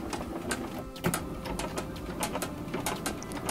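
A bench CNC Y axis runs on a GT2 belt drive with a gear reduction pulley and 3D printed pulleys, giving a soft motor whir with rapid repeated ticking and clicking steps throughout.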